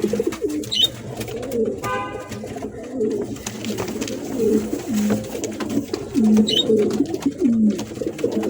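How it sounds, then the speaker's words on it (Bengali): Pigeons coo repeatedly at a pigeon farm, a steady murmur of overlapping low, rolling calls from several birds close by, with brief chirps and faint background noise mixed in. "এইগুলো সব ছাড়া কবুতর দেখতেই পাচ্ছেন বের হওয়ার জন্য কি করতেছে"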